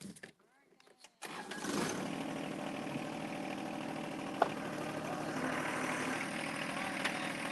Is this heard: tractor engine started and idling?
yes